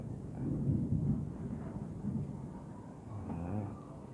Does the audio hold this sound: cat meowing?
no